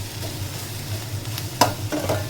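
Egg and onion with fenugreek greens sizzle in a pan as a spoon stirs them, with a few soft scraping clinks over a steady frying hiss.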